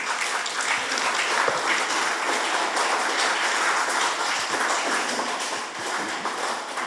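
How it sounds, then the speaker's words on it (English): An audience at a school function gives a warm round of applause for the principal, a dense, steady clapping that fills the room without pause and carries no speech. "Please welcome her with a warm round of applause."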